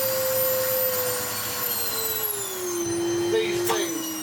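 An Electrolux Mondo Z1190e vacuum cleaner runs with no filters fitted, a loud, steady whine whose pitch slowly drifts lower, with a brief rising squeal near the end.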